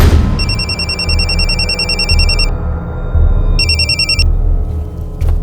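A telephone rings in two bursts of trilling electronic rings, loud and close, over a steady low background hum, with a pause between the bursts and no talking.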